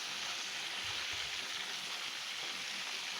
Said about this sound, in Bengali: তো আমি এখন মাংসগুলো আরও লাল করে ভেজে নেব